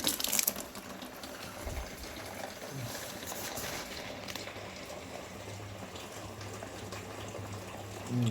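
Water pours steadily into a container during a house tiling renovation, a continuous broad gushing and splashing hiss lasting throughout at moderate, close range with no talk over it.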